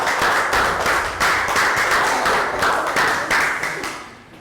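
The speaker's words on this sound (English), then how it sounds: "Round of applause for Down and Sue." A small group claps for children after a running and jumping exercise in a Year 3 fitness lesson, giving several short bursts of clapping in an uneven rhythm.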